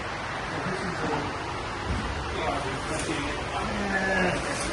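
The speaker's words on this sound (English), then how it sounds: "Sorry about the fan noise again." A steady broadband fan roar fills a car body shop, a constant hiss running under a voice as he talks nearby.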